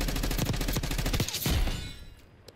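Rapid bursts of gunfire in a Call of Duty video game, loud and close, in a dense stuttering fusillade that fades out over the last second. No voice is heard.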